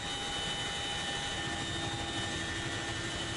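Loud, steady aircraft engine drone holding at about 600 m altitude during a military parachute drop by special forces troops, a continuous roar with a tonal hum that fills the whole stretch without any talk.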